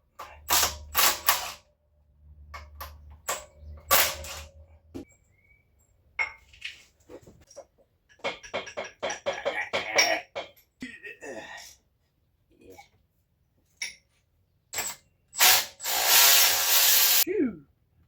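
A ratchet clicks in short bursts while turning a long bolt on a Shelby Cobra replica in a garage, with pauses, clanks of tools and mechanical creaks between strokes.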